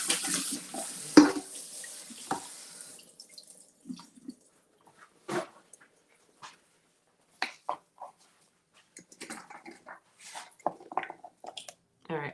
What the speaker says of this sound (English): Just gonna rinse these off.